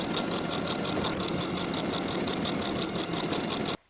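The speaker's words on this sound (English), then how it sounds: "Then sew each of your buttonholes in place." A sewing machine stitches buttonholes on a dress, a fast steady mechanical whir with a regular needle pulse running loud and close for nearly four seconds before stopping abruptly.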